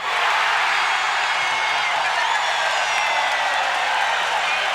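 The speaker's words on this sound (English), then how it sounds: "The crowd goes wild." A packed basketball arena crowd roars and cheers continuously during a late-game rebound at a 1989 Magic versus Pistons preseason game, a dense, loud wall of voices from start to finish.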